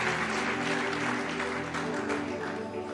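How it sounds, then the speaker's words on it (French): A church congregation applauds during a worship service, dense and sustained clapping from many hands that fills the space for a few seconds, steady and loud, with faint crowd voices underneath. "Acclamons encore pour le Seigneur"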